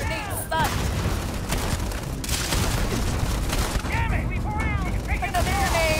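Grenade explosions and gunfire in the Starfield video game, a dense barrage of booms and shots with ringing game effects, continuous and loud, while a player talks over it.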